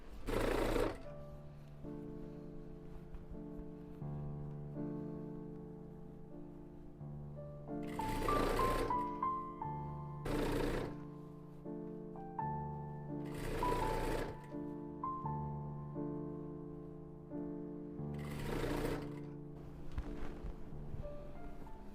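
Sewing machine stitching a fabric ruffle for a homemade tablecloth, running in several bursts of rapid, close mechanical whirring separated by quieter pauses, with no talk.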